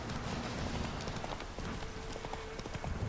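Horse hooves clip-clop steadily while riding in The Witcher 3 video game, a faint rhythmic patter of steps under a dense wash of ambient game noise, with no voices.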